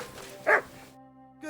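A dog in Kingdom Come Deliverance 2 gives a single short bark close by over a quiet game ambience, followed by silence and a faint tonal sound at the end.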